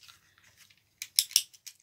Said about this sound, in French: les ciseaux